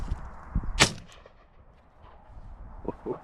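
Shotgun shots at crows outdoors, two or three sharp reports, the loudest near one second, followed by fainter distant cracks.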